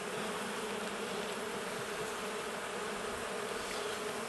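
Honeybees buzz at an open hive during an inspection before swarming season in Norfolk, a dense, steady drone that holds at an even level from start to finish.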